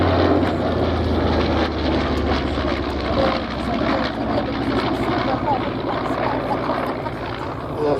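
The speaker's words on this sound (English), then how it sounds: "So this will be the last pass of the B-25." Deep, rumbling propeller drone of a B-25 bomber making its final pass at the Sywell Airshow, loud and sustained throughout, with an announcer talking over the engine noise.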